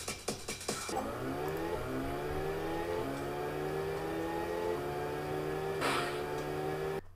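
Synthesized racing car engine from the Lotus Turbo Challenge video game, a steady revving drone that climbs through gear changes after a few sharp opening hits, with a brief burst of noise near the end.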